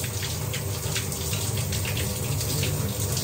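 Shower water pours steadily and close by, a continuous broadband hiss and splatter with no breaks, filling the space at moderate loudness with no voices.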